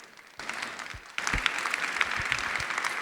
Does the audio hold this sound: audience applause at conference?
yes